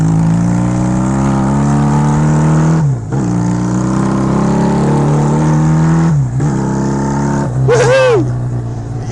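A 1969 Honda CA175 twin-cylinder motorcycle engine revs up loud and close in steady rising pulls, dropping briefly twice between surges, with a short high whoop of a voice near the end.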